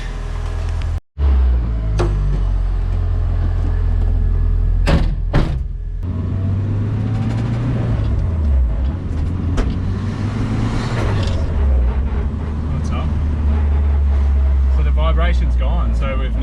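A restored $1700 abandoned show car, the Nugget, on its first test drive: a steady close engine drone rises and falls in pitch as it pulls away, with a brief door thud near the start and voices talking over it.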